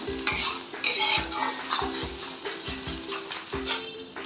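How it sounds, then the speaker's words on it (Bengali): Spoon stirring kalojire (nigella) fish curry in a pan, repeated rhythmic scrapes and clinks of utensil against metal with a light sizzle of the frying masala, close and moderately loud, no talking. "এবার এটাকে ভালো করে কষবো।"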